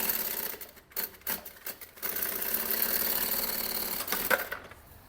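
Sewing machine running a securing stitch around the edge of a pocket panel on a maternity bag in a sewing studio; steady mechanical whirring for several seconds after a few short bursts and pauses, fairly close.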